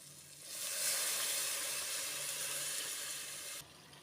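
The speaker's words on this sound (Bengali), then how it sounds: "দেখেন এখানে পানিটা ফুটে গেছে" Water boiling in a cooking pot over fried vegetables, a steady hissing, bubbling rush that swells in after a quiet start and holds close and even for several seconds before dropping away abruptly.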